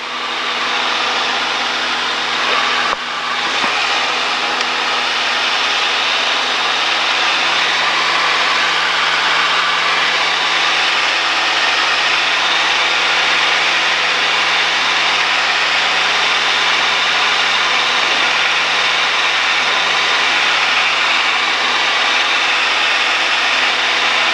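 A Cessna 152 engine in flight at 2,500 feet over an airfield during practice turns, a loud, steady droning hum heard close from inside the cabin, continuous throughout.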